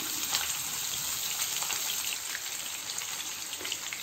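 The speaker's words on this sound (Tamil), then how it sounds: "இது வந்து நல்லா ஷேலோ ஃப்ரை பண்ணி நம்ம எடுத்துக்கலாம்" Fish shallow frying in oil on a flat tawa gives a continuous, crackling sizzle with fine spattering pops, close and steady throughout.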